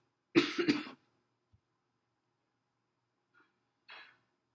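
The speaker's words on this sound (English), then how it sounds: "I've been struggling not to cough." A single sharp cough near the start, followed by near silence and a faint breathy exhale at the end.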